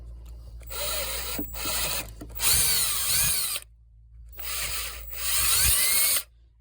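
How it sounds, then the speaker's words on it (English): Power drill boring out a broken stud on a 2001 Chevy Blazer ZR2 during a thermostat job, whining in several short bursts that rise and fall as the bit bites, with pauses between runs and no talking. "I'm only drilling it as deep as the bolt would go through with the top plate on"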